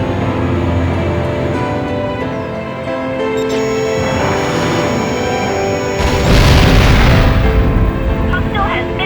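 Explosion of a destroyed enemy aircraft in the PSP flight combat game Ace Combat: Joint Assault, a heavy booming blast that swells near the end over constant engine drone and game audio, with radio-style speech mixed in.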